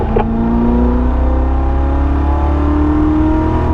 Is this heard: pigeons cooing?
no